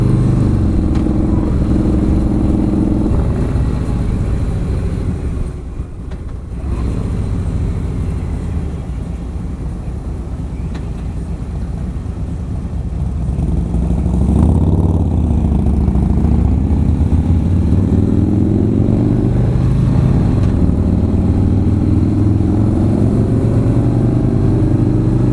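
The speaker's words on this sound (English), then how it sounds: "You twist the throttle and it feels like this thing's trying to jerk itself out from under you." Harley-Davidson motorcycle riding on an interstate, a loud, steady engine drone heard from the saddle with wind rush, dipping briefly then swelling as it accelerates and holds speed.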